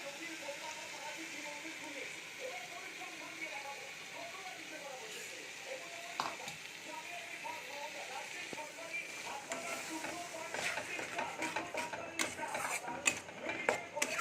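A cashew, raisin and green chili paste goes into a frying pan for chicken kofta curry, with a low sizzle under a speaking voice that gives way to sharper crackles and stirring clatter.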